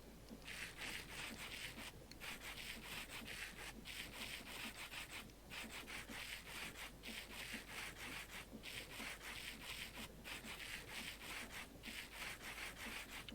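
Sandpaper polishing rose quartz in the Minecraft Create mod: a steady, continuous rasping scrub with rhythmic strokes repeating throughout, fairly loud and close, with no talking.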